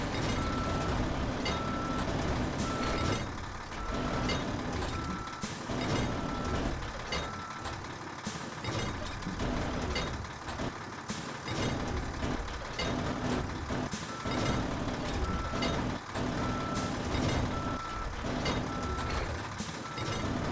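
Repeated reversing beeps from a truck in an Alaska trucking video game, a regular evenly spaced tone pattern over a constant engine rumble, with no talk.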